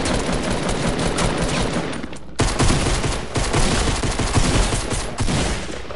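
Dense, rapid gunfire from a video game firefight, shots overlapping in a continuous loud barrage with a brief drop near the two-second mark before the volley resumes.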